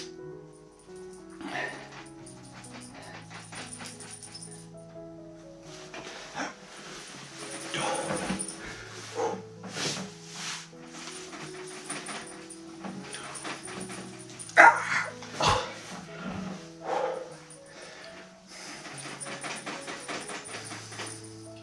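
Several dogs indoors whine, yip and bark in eager bursts, wanting to be let out into the garden, close and lively, with scattered bits of talk between them.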